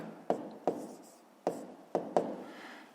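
A pen scratches numbers on paper in five short strokes at irregular intervals, each a quick soft scrape that fades out. It is close and quiet, with no talking.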